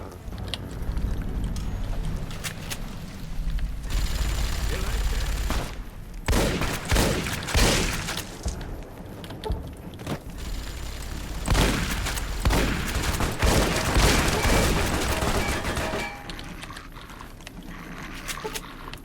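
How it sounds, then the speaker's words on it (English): Gunfire from the Fallout: New Vegas video game, dense bursts of shots and clattering fusillades across most of the stretch, loud and close with mechanical rattles between volleys. "Who's shooting at us?"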